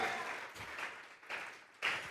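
A church congregation applauds during a Sunday service, faint and distant, the clapping coming in uneven bursts that swell and fade.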